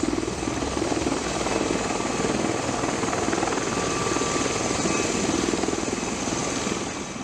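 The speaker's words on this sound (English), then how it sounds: "Boeing V-22 Osprey is an American multi-mission aircraft" A loud V-22 Osprey tiltrotor aircraft drones overhead, a dense continuous whir with rhythmic blade chop, close and steady throughout.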